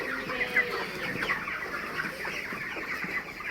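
Chickens cluck steadily on a poultry farm, a flock of four-week-old birds murmuring and clucking together at close range with no talk over them.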